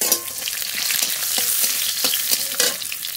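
Garlic and jiol fish pieces frying in hot oil, a dense close-up crackling sizzle with scattered pops and stirring clicks, alone without speech.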